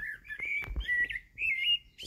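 Small birds chirping high in a pine tree in a front garden, a run of close, clear tweets and whistled calls in short bursts with brief pauses, no talking.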